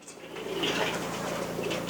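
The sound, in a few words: pigeons cooing at a farm pigeon house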